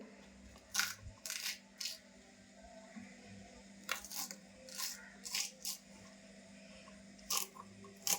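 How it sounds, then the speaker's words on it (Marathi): Knife cutting okra (bhendi) for a Malvani-style dish, giving sharp, crisp clicks against a cutting board in small irregular clusters, close and fairly quiet, with no speech. "आता मी भेंडी कापायला घेते"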